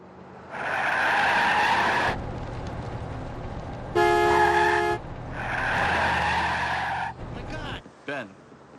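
A car's tires squeal loudly in a long skid to a stop, with a second sustained screech after a brief blaring horn blast, followed by a few short clunks and squeaks.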